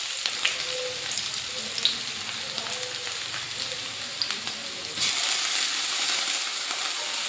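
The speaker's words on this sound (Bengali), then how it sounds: "পেঁয়াজটাকে হালকা ভাজা ভাজা করে নিতে হবে।" Onions sizzling in a hot pan after whole spices, a continuous close frying hiss with small pops, jumping louder near the end as more grated onion is added.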